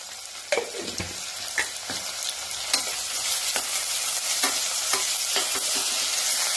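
Garlic sizzles steadily in hot oil in a pressure cooker, with a spoon scraping and stirring at irregular intervals, close and fairly loud, with no talking.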